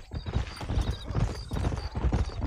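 Horse hooves gallop in a quick, rhythmic clip-clop in Red Dead Redemption, loud and close, with a continuous repeating beat.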